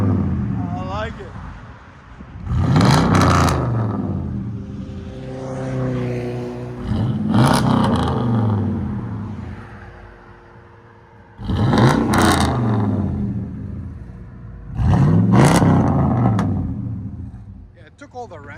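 A car with a double X-pipe exhaust revs four times in long, rising-and-falling pulls, each loud, deep swell separated by a quieter idle rumble.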